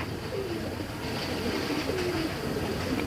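Military-breed pigeons in a loft coo in soft repeated low calls over steady background noise, with no talk.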